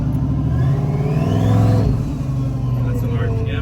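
A Jeep Trackhawk with a 426 engine revs up and settles in a loud, close mechanical roar that climbs and falls, with people talking over it.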